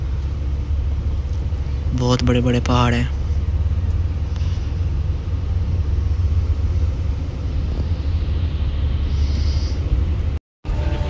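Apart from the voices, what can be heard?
car driving slowly on a mountain road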